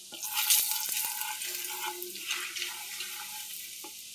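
Whole spices and bay leaf hitting hot oil in a wok, a soft hiss and crackle with a few sharp clinks of a utensil against the pan, close and moderately quiet.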